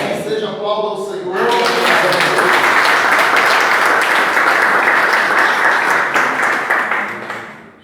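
Loud, dense applause from a large church congregation fills the room after a brief spoken line, sustained for several seconds before tapering off.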